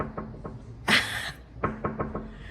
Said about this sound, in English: Just by the sound of the knock.